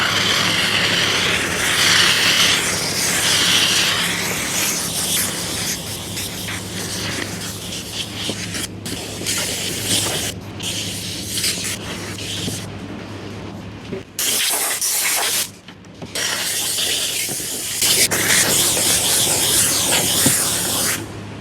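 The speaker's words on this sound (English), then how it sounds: "Got that isopropyl alcohol mix. I'll spray the door down." Isopropyl alcohol mix sprayed down a moldy interior door, a loud continuous hissing spray running steadily with a few brief pauses, close and alone.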